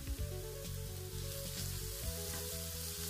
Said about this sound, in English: I'm just going to leave this to saute.